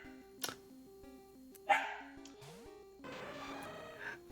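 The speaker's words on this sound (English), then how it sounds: "So I'm sure you can hear my dog barking in the background." A dog barks in the background of a home gaming session: a few sharp, separate barks and yips, fairly faint and spaced apart, followed by a longer run of barking near the end, with no talking.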